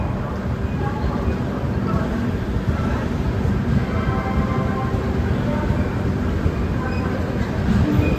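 Veerbhumi Express running from Indore toward Udaipur, a continuous loud rumble and rattle of the coaches rolling along the track, steady throughout with no clear voices.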